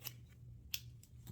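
Close, quiet snips of scissors cutting hair during a twist hairstyle: three or four short, crisp metallic cuts spread across about a second over a low background hum.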